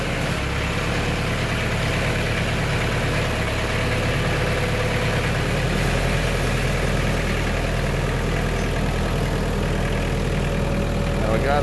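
A small red tractor engine runs steadily with a brush hog attached on the back, a continuous loud mechanical drone with a deep low hum that holds even for the whole stretch, with no talking.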